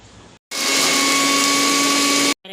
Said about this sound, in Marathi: सर्व वाटून घ्यायचं आहे.